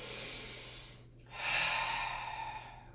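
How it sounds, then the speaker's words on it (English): One deep breath from a person rising to stand during a gait and balance exercise class, heard close up as a breathy inhale, a brief pause, then a long, loud, airy exhale. "take 1 deep breath"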